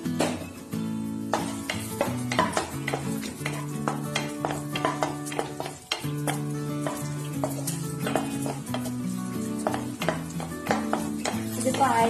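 Raisins and cashews frying in ghee in a pan, a close bubbling sizzle broken by repeated metal spoon scrapes and stirring clinks.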